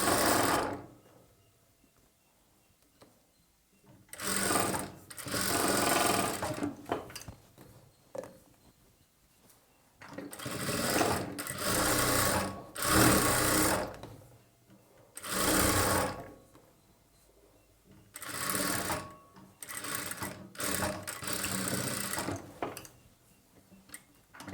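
Domestic sewing machine stitching a plain blouse, running in several short bursts of rapid, rattling mechanical whirring separated by quiet pauses, close and fairly loud with no talk.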